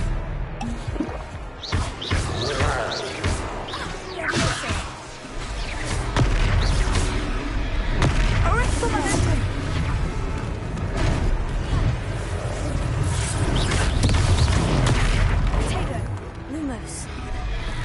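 Spell-casting bursts and booming magical impacts from a Hogwarts video game duel fill a dense, loud stretch of combat effects, with a player's voice talking over the action throughout.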